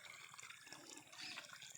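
Irrigation water flowing through a field channel split four ways, a steady hissing rush and trickle, faint and continuous with no voices.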